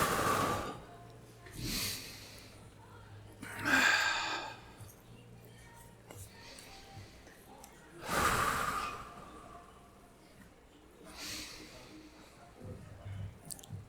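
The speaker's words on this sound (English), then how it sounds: "Get that nice circular breathing in there." Heavy, controlled breaths during a set of pull-ups, with sharp exhales and sighing pushes every few seconds, close and moderately loud, separated by quieter rasping inhales.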